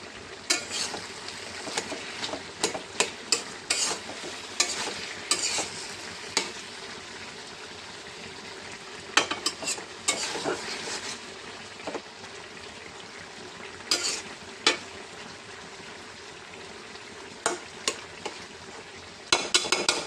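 Gourd leaves with coriander frying in a pan, with a steady sizzle under repeated sharp scrapes and clatters of a spatula stirring against the pan, close and fairly loud.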